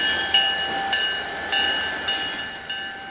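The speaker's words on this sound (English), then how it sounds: "As you can see, there's the old L&N and Southern crossing the bridge." Old L&N and Southern freight trains crossing the Tennessee River bridge at Decatur, Alabama, around 2000: a steady metallic rumble and screech with rhythmic wheel clicks about every half second, heard alone from nearby.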